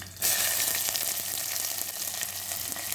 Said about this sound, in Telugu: ఇప్పుడైతే ఇందులో ఆనియన్ అయితే వేసేస్తున్నాను